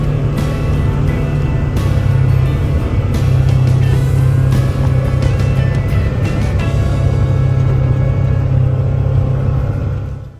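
A Polaris Xpedition ADV side-by-side on 27-inch rims drives along with a loud, steady engine drone and deep rumble, a continuous close on-board hum with occasional rattles and no talking, fading at the very end.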